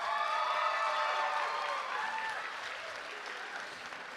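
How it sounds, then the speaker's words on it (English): An audience at a high school spring band concert applauds in a dense, sustained burst of clapping that fades slightly over a few seconds. "a huge round of applause for all of their efforts"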